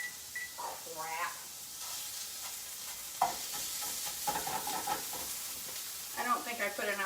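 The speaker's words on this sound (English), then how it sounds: "I'm just gonna fry it up." Sausage and cabbage fry in a pan for a quick breakfast, a steady close sizzle with stirring scrapes, while someone talks over the cooking at times.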